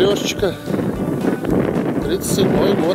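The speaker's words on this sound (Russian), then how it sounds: "За ветер прошу прощения сразу, пытаюсь спиной становиться к нему." Gusty wind buffets the microphone outdoors, producing loud low rumbling blasts throughout while someone speaks over it.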